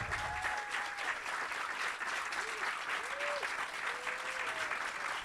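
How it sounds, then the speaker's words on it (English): Audience applause at a PaleyFest New York panel for Landman, greeting co-creator and executive producer Christian Wallace; steady, dense clapping from a large crowd, with a few faint whoops rising above it. "Please keep the applause going for Christian Wallace, co-creator and executive producer."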